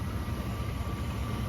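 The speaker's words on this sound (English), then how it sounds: "I got the engine running and I got the air conditioning on" A Chevrolet Silverado 6.0 V8 idling with the air conditioning running, a steady low rumble with a constant whirring hum over it, unbroken and fairly close.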